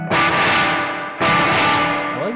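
An electric guitar runs through a Red Panda Context reverb pedal with the reverb opened up wide. Two loud, distorted strummed chords swell into a huge, washy tail, with no voices.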